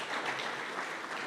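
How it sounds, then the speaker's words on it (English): Audience applause at a closing ceremony for a digital education forum, a steady wash of clapping from a crowd heard at a moderate distance, continuous without any voices. "Let's give them a round of applause, please."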